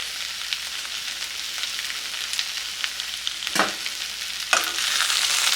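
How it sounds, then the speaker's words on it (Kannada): Ivy gourd (tondekai) fries in oil over a medium flame, making a bright, steady hiss of sizzling broken by a few spatula strokes. Nobody speaks. "ಇದು ಎಣ್ಣೆನಲ್ಲೇ ಫ್ರೈ ಆಗಿದೆ ನೋಡಿ"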